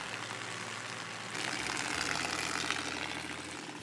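Water pouring and splashing off an RV slide-out as it retracts, a steady rushing that swells partway through over a low motor hum.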